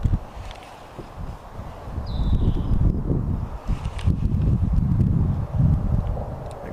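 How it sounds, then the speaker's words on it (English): Strong wind gusting outdoors on a fishing outing, a steady rumbling buffet across the microphone that swells and dips throughout, with faint rustling mixed in. "I wish it wasn't so darn windy."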